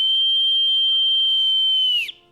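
A single long, steady whistle blast is held for about two seconds, then breaks off with a short chirp. It is loud and close, with nobody speaking.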